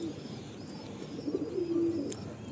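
Close, low cooing from a Kalsira pigeon in a loft, soft rolling notes that swell into a longer, louder coo near the end, with no talking.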